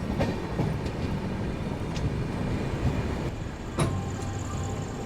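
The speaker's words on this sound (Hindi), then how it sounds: "यहाँ पर ट्रेन निकल रही है।" A passing train rumbles steadily alongside a halted express train near Katpadi Junction in South India, a continuous loud roar of wheels and carriages with a few sharp clanks and squeals.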